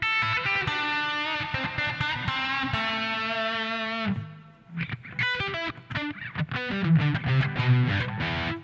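An electric guitar runs through the hall reverb of a Boss ME-25 multi-effects unit, with sustained chords ringing into a long washy tail, a brief drop near the middle, then quicker picked notes, played alone and close.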